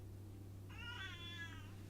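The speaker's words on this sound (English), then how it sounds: "he's meowing again" A cat meows once, a drawn-out cry with clear harmonics rising over steady low electronic hum, heard indoors against background noise.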